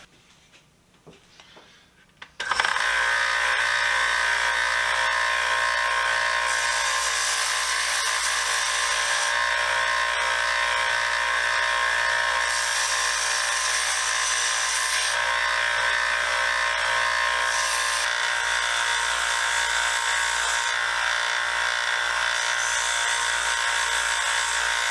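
Electric 1x30 belt sander grinding a copper hammer head, starting abruptly after a brief quiet moment and then running as a steady, loud, high whine with shifting grinding texture as the metal is pressed against the belt.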